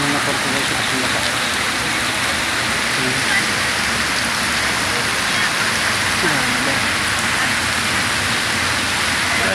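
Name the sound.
heavy rain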